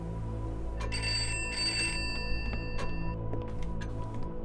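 Telephone in the horror video game Pineview Drive rings in repeated bursts of bright electronic tones over a low steady hum, filling most of the span before fading into quieter clicks.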